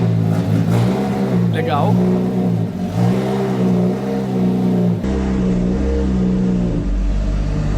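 A rebuilt, water-damaged Porsche 911 GT3 RS idles and pulls away in first gear, a steady loud engine drone with a mild rise in revs and a whine, under close voices talking.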